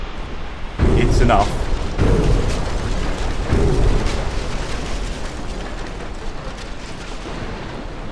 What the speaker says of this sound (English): These torpedoes don't do a huge amount of damage when they hit